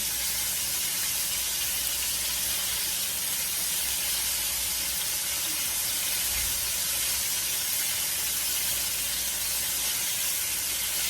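Steady, dense sizzling hiss of chicken deep frying fully immersed in hot grease, constant and close throughout with no voices.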